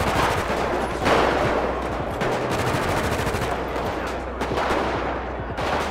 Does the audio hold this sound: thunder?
no